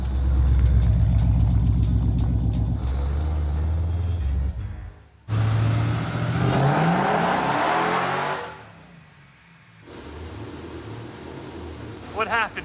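Nissan 350Z with a swapped Hellcat engine roaring on a dyno, revving hard and dropping off between pulls, the tires roasting on the rollers, with people talking over the noise.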